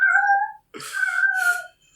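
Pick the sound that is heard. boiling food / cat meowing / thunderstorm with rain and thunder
cat meowing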